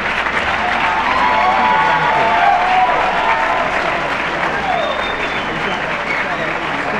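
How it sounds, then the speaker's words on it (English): An audience gives a round of applause for a trivia team at a college trivia bowl semifinal. The clapping is dense and sustained, with crowd noise underneath, and it fades slightly toward the end. "Could we have a nice round of applause for Tyson?"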